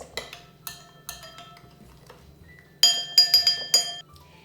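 Water being stirred into yeast and sugar in a glass, a spoon clinking against it, first a few faint taps, then a louder burst of rapid ringing clinks near the end, with no voices.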